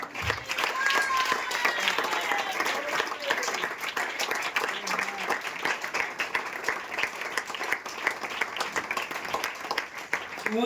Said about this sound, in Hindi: ग्लोरी ग्लोरी, स्तुति की तालियां देंगे।